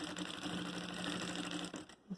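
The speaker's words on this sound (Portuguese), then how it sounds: "Eu viro e vou passar a costura de novo aqui na beirada, pra fixar o outro lado." A sewing machine stitches along the edge of a fabric makeup case in a fast, steady, close whirring run that stops abruptly near the end.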